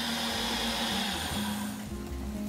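A kitchen blender grinds tomato and garlic with a steady, loud motor whir that holds throughout, its pitch shifting slightly as the contents break down; no voices.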